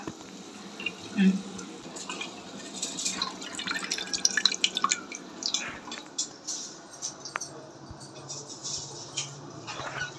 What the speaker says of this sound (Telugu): చూడండి ఎంత మంచిగా మరిగిందో